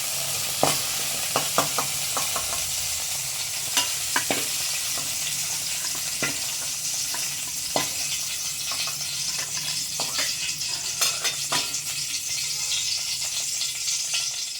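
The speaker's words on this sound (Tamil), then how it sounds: "நம்ம 2வதாக போட்ட வெண்டைக்காய்களும் வந்து நல்லா வதங்கிட்டு இப்போ நம்ம வந்து இதையும் எடுத்துடலாம்." Okra sizzles steadily as it sautés in a pan for a coconut-free tamarind curry, with scattered scraping clicks of a stirring spoon over a constant close frying hiss, no voices.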